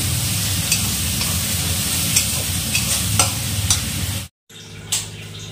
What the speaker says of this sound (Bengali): এই যে আদা রসুন টমেটো দিয়ে ভাজা হচ্ছে